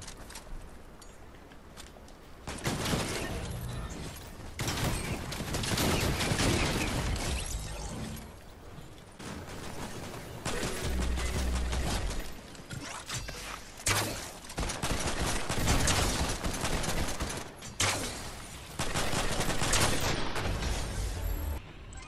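Rapid bursts of gunfire in a Fortnite match, mostly fusillades with a few shotgun blasts, coming in loud repeated volleys separated by short lulls over a steady game backdrop.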